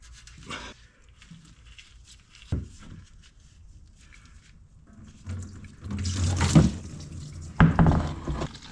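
Coolant draining from a Subaru WRX radiator, heard as a few short splashes early on and then a louder gushing, splattering pour of liquid late in the clip, with no talking.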